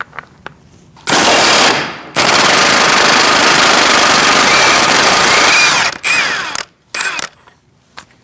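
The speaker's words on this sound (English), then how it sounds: "Now we're going to take this nut off with a 12-point socket," A 30mm axle nut on a 2002-2006 Toyota Camry front CV axle is spun off with an impact gun and 12-point socket: a loud, sustained rattling hammer burst of several seconds, a short pause, then another long run and brief final bursts.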